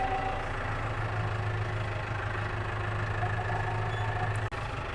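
A tractor engine idles at a steady, even rumble close by, continuous and fairly loud, with a brief click near the end and no talking.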